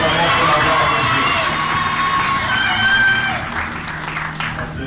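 Applause and cheering from a wedding crowd in a church ceremony, a dense, loud wash of clapping with voices and a few shouts, steady for several seconds, then easing slightly.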